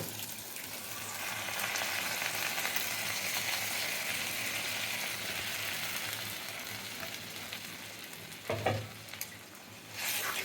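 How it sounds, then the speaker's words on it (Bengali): Boiled whole moong dal goes into a sizzling tarka masala, giving a steady frying hiss with a louder splash and stirring clatter near the end. "এবার দিয়ে দেবো সেদ্ধ করা গোটা মুগটা"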